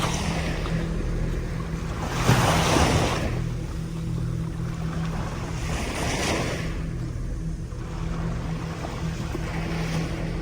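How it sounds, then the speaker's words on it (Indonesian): Waves from the southern sea break on the shore at a camping spot, with moderate surges washing in at intervals of a few seconds over a constant rumble of surf and wind, and no voices. "untung aja ombak di sini nggak begitu besar sobat horor"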